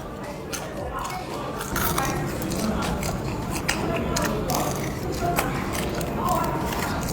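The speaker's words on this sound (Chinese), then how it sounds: "油边这个东西越嚼越香。" Close, repeated crunching bites of a crispy air-dried, charcoal-grilled pork fat strip at a skewer stall, steady chewing throughout over a busy, chattering background.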